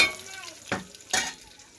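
Sliced onions hit hot oil for a meal maker (soya chunk) tomato curry, giving two sharp bursts of sizzling and stirring over a low, steady background hiss.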